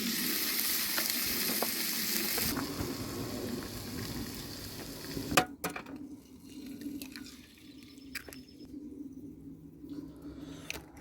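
Gammon frying for breakfast in a pan at a lay-by camp, hissing in a steady, loud sizzle that later thins out and gives way to scattered spits and crackles.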